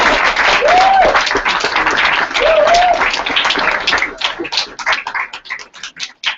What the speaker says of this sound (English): first of all, give them a round of applause.